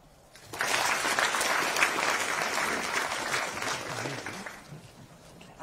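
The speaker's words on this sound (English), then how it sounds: "Give that man a clap" A crowd at a political speech breaks into sustained applause, steady clapping that swells quickly and gradually eases off over several seconds.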